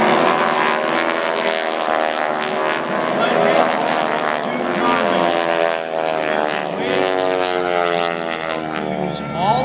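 Propeller aerobatic aircraft of the Aeroshells team fly in formation at the 2014 Vectren-Dayton Air Show, their engines a loud, steady, droning roar that holds throughout with slight shifts in pitch.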